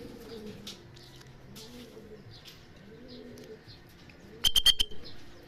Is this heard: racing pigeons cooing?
yes